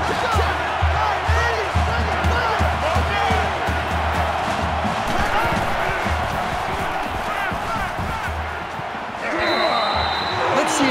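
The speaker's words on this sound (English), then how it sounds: "This crowd can really be intimidating for an opposing team." Stadium crowd roar in an NCAA college football video game, Texas A&M at Florida, a dense sustained rumble of many voices with shouts rising through it and a brief lull near the end.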